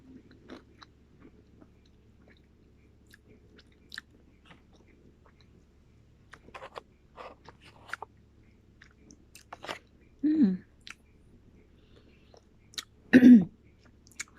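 Crunchy pistachio Dubai-style chocolate being chewed: a few soft bites and crackles, then two louder close crunches near the end, in an otherwise quiet room without talk.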